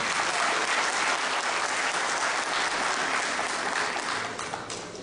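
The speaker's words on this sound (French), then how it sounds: "je vous demande de les applaudir" An audience applauds the candidates at a school end-of-year celebration, dense sustained clapping from a large crowd that holds steady and then fades off in the final second.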